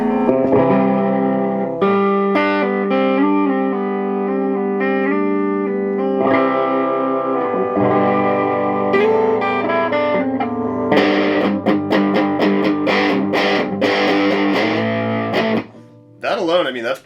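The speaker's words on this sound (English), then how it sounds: "That's just gain distortion off of the amplifier" An electric guitar played through a Boss Katana MK II 50-watt amplifier's clean channel with natural gain overdrive, gritty distorted chords and single notes ringing out, with sharper picked strums near the end.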